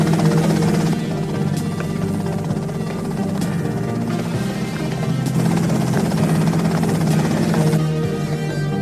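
A helicopter in GTA Vice City drones loudly and steadily, its rotor thrum and engine whine continuous and close for the whole stretch, with no talking.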